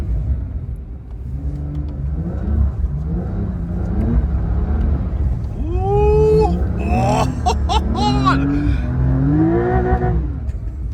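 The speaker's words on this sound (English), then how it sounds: "this car sounds good actually, inside at least" Porsche 992 Dakar driving through deep snow, its engine a steady rumbling drone heard from inside the cabin with rising revs, while people talk and exclaim over it.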